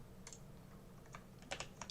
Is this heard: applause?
no